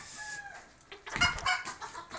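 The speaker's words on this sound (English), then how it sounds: "we got a couple of chickens in here" A few farm chickens in a pen cluck nearby in short, quick bursts, a brief cluster of throaty calls that grows louder toward the end.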